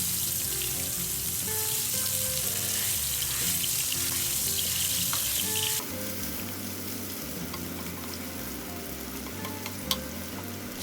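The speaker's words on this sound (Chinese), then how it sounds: "锅内放2勺油烧热，放入肉末， 快速翻炒至肉末变色" Minced meat stir-fried in hot oil in a wok gives a loud, steady sizzle with scraping and stirring throughout, and the tone shifts partway as the food is tossed.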